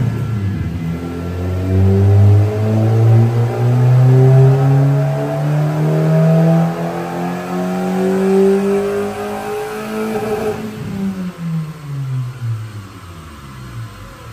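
A modified Suzuki FX car, its genuine air intake cut and turned toward a fan, revving hard on a dyno: engine pitch climbs steadily through a long loud pull, then drops off as it winds down.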